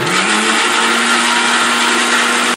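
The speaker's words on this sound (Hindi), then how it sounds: "इसको भी मिक्सी में पीस लेंगे अपन," A mixer grinder grinding spinach whirs loudly and steadily at high speed, then cuts off abruptly at the end.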